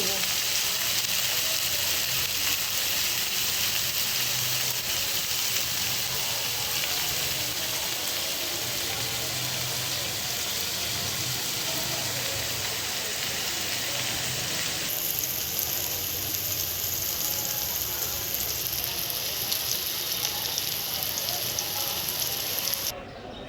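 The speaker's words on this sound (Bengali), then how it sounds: "তেলটা কড়াইতে দিয়ে মিষ্টি লাউগুলো ছেড়ে দিয়েছি" Sweet gourd pieces fry in oil in a wok, giving a steady, dense sizzle that stays close and loud for the whole stretch, with a slight shift in texture partway through.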